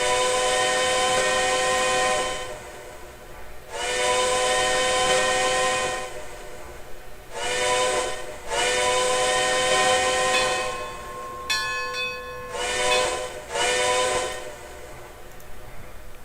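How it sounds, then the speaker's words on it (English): An Atlantic Coast Line six-chime steam whistle in the Trainz game blows in a series of long and short chord-like blasts, loud and resonant, with a brief higher tone midway. "I love her whistle sound. Yes, she has a Atlantic Coastline 6 chime."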